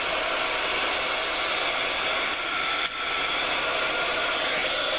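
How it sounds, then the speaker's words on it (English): A handheld heat gun blows hot air over a mixed media art tag, giving a loud, steady, continuous rushing hiss that holds unbroken for the whole stretch. "I'm going to take my heat gun and I'm going to heat that up as well."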